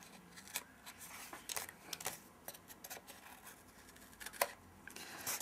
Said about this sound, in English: with some scissors, just trim off